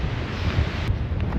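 Strong gusting wind buffets the microphone out on a frozen lake in winter, a loud, steady roar with no pauses throughout.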